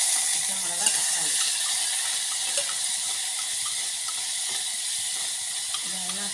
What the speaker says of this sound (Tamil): கடுகு தாளிச்சாச்சு. இப்போ இதில் பச்சை மிளகா போடுறேன்.